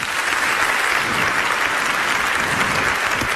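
A large audience at the opening session of the 2017 UN Public Service Forum claps steadily, a full, even wash of hands filling the hall without pause.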